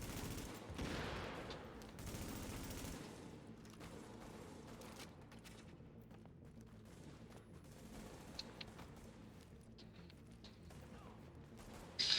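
Sustained enemy gunfire from a heavy gunner in The Division video game, a dense continuous fusillade of automatic shots with mechanical clatter, steady and loud throughout with a sharp burst at the end.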